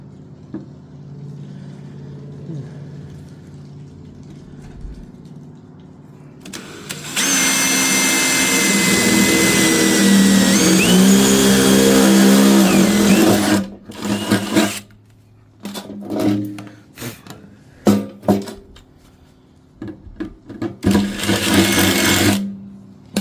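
A power drill bores two holes in a metal ammo can, whining loudly and steadily for several seconds, then starting and stopping in short bursts with brief quiet gaps between.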